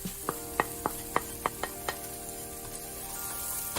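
A spoon taps and scrapes around a pan as masala spices — chilli, garam masala, coriander and cumin powders — are stirred into fried onions, a series of crisp metallic knocks over a faint sizzle, then quieter frying.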